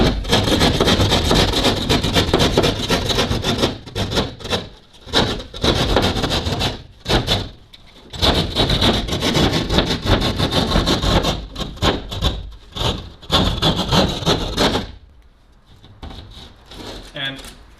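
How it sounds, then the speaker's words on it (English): A keyhole saw rasps through drywall while cutting a hole for a plug box, with loud, close scraping strokes in quick bursts broken by short pauses, trailing off near the end. "I'm simply going to take my keyhole saw and I'm going to push in."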